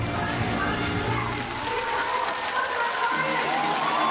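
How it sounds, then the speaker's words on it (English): Crowd at Singapore's National Day Parade 2024 cheering and applauding after the Red Lions parachute landing, a dense sustained roar of shouts, whistles and clapping spread wide and distant, with a commentator talking over it. "The crowd is erupting in cheers and applause, waving their flags"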